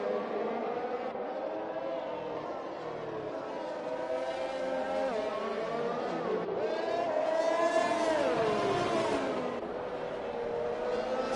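A McLaren race car on a flying lap in a racing video game screams with a loud, sustained engine note that rises and falls through the gears and corners, with voices talking beneath it.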